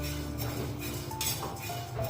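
Light metallic scraping and clinking of a spoon stirring oats as they roast toward crunchy in a kadhai on low heat, steady and close with soft irregular strokes.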